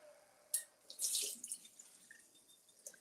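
Rice being rinsed under a running kitchen tap, with faint splashing and water bursts, a brief gush in the middle and scattered drips, quiet and close.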